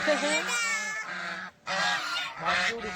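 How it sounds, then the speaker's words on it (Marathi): Ducks at a lake near Durga Tekdi in Nigdi, Pune, let out loud, close, nasal honking calls in repeated bursts with one short pause between them. "क्याव क्याव करणारे हे बदक"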